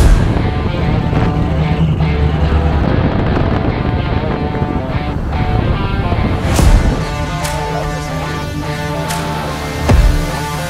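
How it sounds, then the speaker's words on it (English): A 1967 Camaro RS with a 671 blower rumbles and roars as it smokes new Toyo drag tires at light throttle, with a steady loud engine drone, wind buffeting and a couple of sharper revs. "Barely giving it a quarter throttle. It's smoking the brand new tires."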